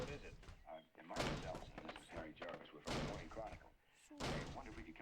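A door being bashed and broken down in the game Hello Neighbor, heavy slams and thuds repeating at intervals under loud, excited talk throughout.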